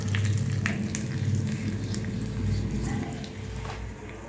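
Curry leaves sizzling in hot oil with dal and dried red chillies for betel leaf chutney, a close, steady crackle with faint pops. The low hum of the just-switched-off stove sits beneath it.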